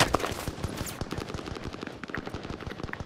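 Rapid automatic gunfire rattles through a video game battle, dense bursts of close, loud shots in a steady stuttering rhythm that runs from start to finish.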